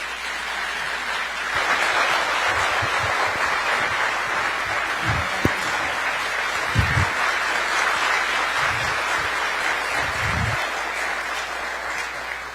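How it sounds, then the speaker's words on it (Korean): An indoor audience at a national government briefing applauds to welcome the prime minister, a steady, sustained round of many hands clapping that stays even and fairly loud for around eleven seconds. "큰 박수로 모시겠습니다"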